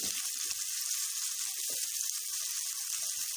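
Onions and masala sizzle and fry in a pan, a close, continuous hissing crackle with small bubbling pops throughout.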